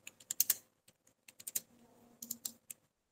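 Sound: typing on a computer keyboard into Tally software

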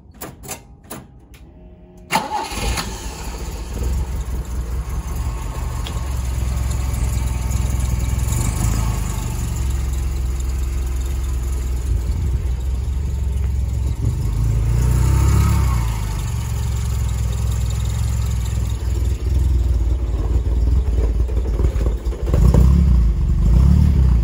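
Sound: car engine starting and idling

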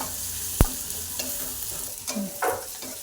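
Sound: onion and chili frying in a pan

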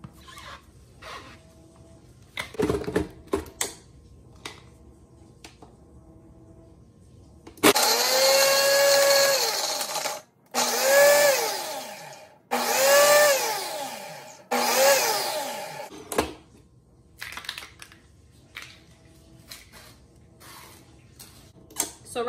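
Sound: blender crushing ice for a homemade Starbucks lemonade drink

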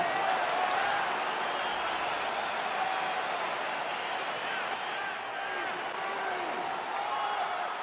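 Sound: crowd cheering in video game EA Sports UFC 4

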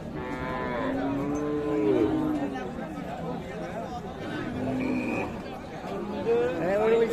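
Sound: cow mooing

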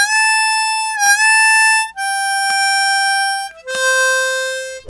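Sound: harmonica bends on draw six, ending on blow six

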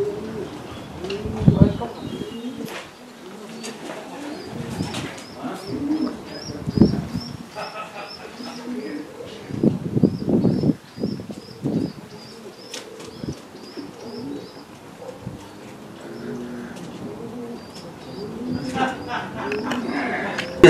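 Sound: racing pigeon cooing

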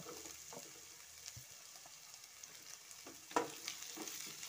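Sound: sautéing cabbage, carrot and capsicum for chow mein

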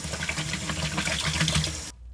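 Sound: water filling a saxophone cleaning container

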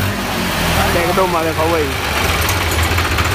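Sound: Holland 3630 tractor engine revving

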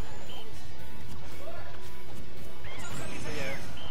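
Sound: forward smash hit in Super Smash Bros video game

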